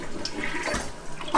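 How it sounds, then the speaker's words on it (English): A toilet flushes after a plumbing repair, a short burst of rushing, gurgling water heard up close with no talking. "toilet is flushing nicely."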